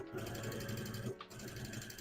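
A sewing machine runs a basting stitch in a steady close whir with a brief pause partway through, while someone talks over it.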